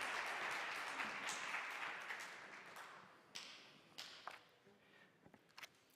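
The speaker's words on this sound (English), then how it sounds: "Give her a round of applause." An audience applauds for a person called up front, loud dense clapping that gradually thins and fades, leaving a few scattered claps and taps near the end.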